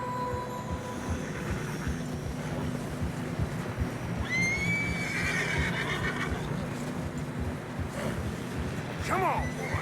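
Horses neigh and whinny while struggling through deep fresh snow in the video game Red Dead Redemption 2. Two clear whinnies rise over a steady rumbling background, along with faint hoof sounds and a low voice.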